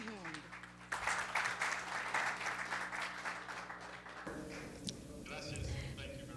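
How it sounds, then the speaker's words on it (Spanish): Applause from a mining-industry audience at a technology and research conference, a dense wash of clapping for about four seconds with voices and stage sound mixed in, then fading as the room settles. "Démosles un fuerte aplauso"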